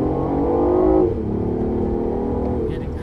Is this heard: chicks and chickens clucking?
no